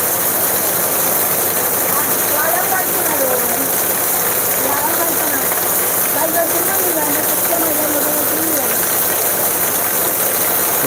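Heavy rain and gusting wind sweep through a night storm in Sylhet as a steady, loud wash of noise. Someone talks throughout over it, with faint engine hum beneath.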